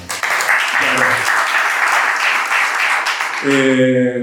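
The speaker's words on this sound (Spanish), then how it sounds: "un aplauso para ustedes mismos" Audience applause fills a talk event, dense steady clapping for about three and a half seconds before a voice begins speaking over the fading claps at the end.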